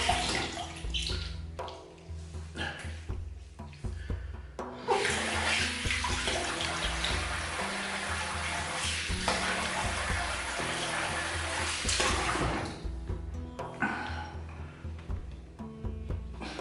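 Tap water runs steadily into a sink as a face is rinsed after a wet shave, a broad continuous splashing that swells louder midway and stays close and even, with no talking.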